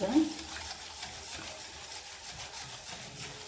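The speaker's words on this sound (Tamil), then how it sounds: "நல்லா விடாமல் கலக்கி விட்டு இருக்கலாம்" A spoon or whisk stirs vegan chocolate cake batter, dissolving brown sugar in a bowl with soft, repeated swishing and scraping strokes, quiet and close, after a brief clink at the start.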